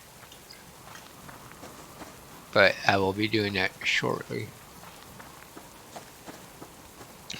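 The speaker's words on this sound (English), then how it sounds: "Now that we're in the rain" Rain falls in the survival game Subsistence, a steady, soft patter with scattered drip-like ticks running through the whole stretch while someone talks in the middle.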